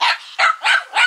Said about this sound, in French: c'est tout petit qui aboie après Sidonie.